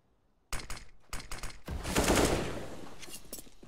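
Rifle gunshots in a Counter-Strike esports match between Bad News Eagles and Eclot: a series of sharp close shots, then a sustained roaring burst fading out.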